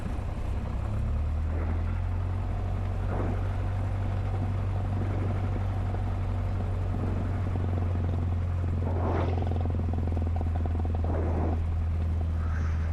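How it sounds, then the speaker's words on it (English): A Cessna light aircraft engine drones steadily through a runway 9 takeoff roll, its low, loud hum continuous throughout with some brief rising surges over the top. "Clear for takeoff runway 9er at 173."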